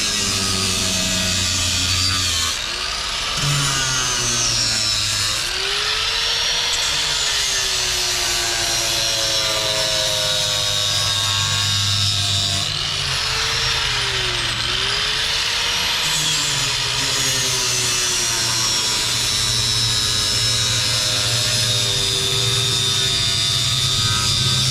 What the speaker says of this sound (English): we're gonna use the angle grinder just for change of pace